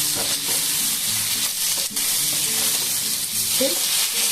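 Paneer roll filling with oregano fries in a pan, giving a loud close steady sizzle with occasional stirring scrapes and clicks.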